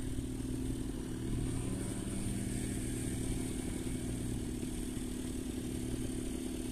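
A motorcycle engine idles steadily and close by in Jeddah, Saudi Arabia, with a dense low rumble and a mechanical clatter that stays loud and even throughout, with no voices.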